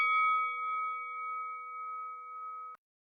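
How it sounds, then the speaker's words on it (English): A bell rings once with a clear, sustained ding that ends a question segment on a podcast. The tone is steady and ringing, holds for nearly three seconds, and then cuts off abruptly. No one speaks over it. "Now, when the bell sounds,"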